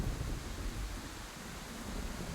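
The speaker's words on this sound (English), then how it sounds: "You're outside. It's raining." Steady rain in an outdoor scene of the video game Scarlet Hollow, a dense, even hiss with no voices over it.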